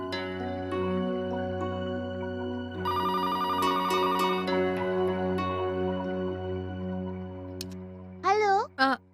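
A telephone rings at home with a steady electronic ringtone, a bright tonal pattern repeating over a constant background hum, followed near the end by a few short warbling chirps.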